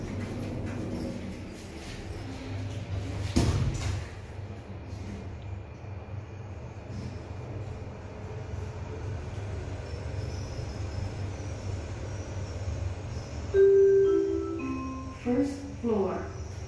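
A ThyssenKrupp panoramic lift at Changi Airport Terminal 2 closes its doors and starts going up, a low steady motor hum with a thud of the doors, then a chime and a recorded voice announcement.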